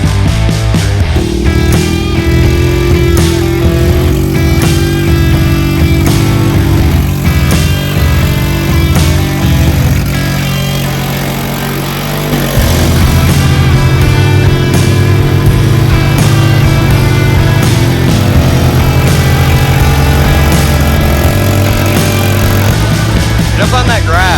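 A utility quad ATV churns through mud, its engine droning loudly and steadily with revving surges and a brief dip midway, while people talk over it.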